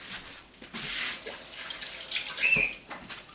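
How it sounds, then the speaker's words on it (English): Water runs from a kitchen tap while hands are washed, a soft steady splash with brief louder bursts and drips, close and fairly quiet. "I'm going to wash my hands real quick."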